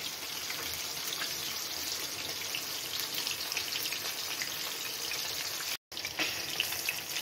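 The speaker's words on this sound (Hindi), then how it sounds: "मछली एहिमे फ्राई भऽ रहल अछि।" Fish frying in a pan, a steady soft sizzle and crackle throughout at low level, with one brief dropout near the end and no talk.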